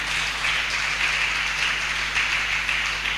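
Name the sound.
audience applause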